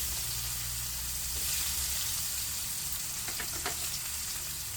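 Onions fry with fish masala in a pan, a steady even sizzle with faint crackles and a few light stirring taps toward the end, no voices.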